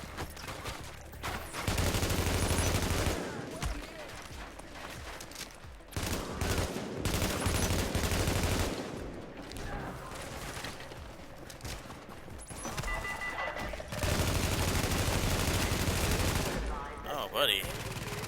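Gunfire bursts in The Division PvP survival mode, loud dense volleys of shots recurring in clusters across the stretch, with quieter gaps between them.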